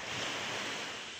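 Sea waves wash against the shore on an overcast day at a crab-fishing spot, a steady broadband roar of surf mixed with wind buffeting the microphone, continuous and fairly loud with no voices.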